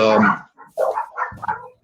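Dogs bark in a few short, loud, close bursts separated by brief pauses, with no other sound behind them.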